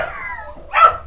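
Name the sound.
miniature schnauzer puppies barking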